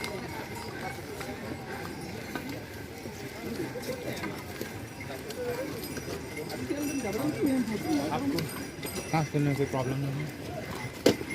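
Horses and mules walk along a crowded mountain pilgrimage trail to Kedarnath. Hooves clop steadily in the background among a noisy crowd, while someone talks over them.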